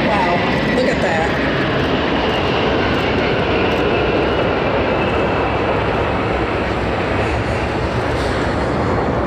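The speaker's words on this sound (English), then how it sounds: "Here comes your air tanker." A DC-10 firefighting air tanker passes overhead, a loud, dense roar of jet engines filling the whole clip without letup, with people talking faintly beneath it.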